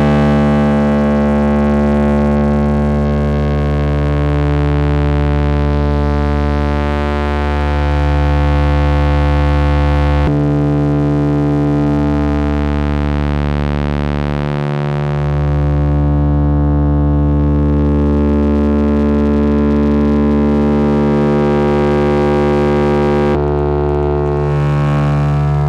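An Elmyra 2 drone synth holds a sustained, harmonically rich drone, its tone shifting to a new wavetable partway through, with smooth swells and a brief dip before settling again, loud and continuous with no voices.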